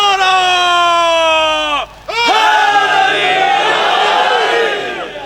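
Large crowd at a majlis in Burewala chanting slogans in unison, loud tonal shouted cries that break off briefly and resume with a roaring surge, near and forceful.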